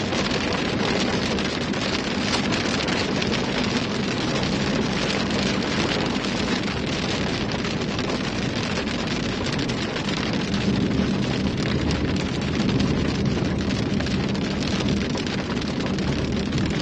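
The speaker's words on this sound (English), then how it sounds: "just gotta get through this obnoxious rain" Heavy rain from a Nebraska hailstorm pounds a moving vehicle, producing a dense, steady roar of broadband noise that stays loud and unbroken without any talk.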